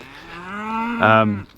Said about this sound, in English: I have to get the cattle in the yard